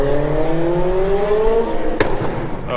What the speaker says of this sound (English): flybys of what the car sounds like